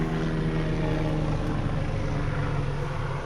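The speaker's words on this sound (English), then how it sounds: "we got some kind of big old helicopter approaching us" A big helicopter passes low overhead, its steady rotor and engine roar loud and continuous throughout with no voices.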